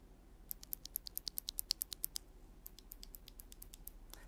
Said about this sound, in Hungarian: Nagyon kliki, nagyon markáns, iszonyatosan kristálytiszta kattogás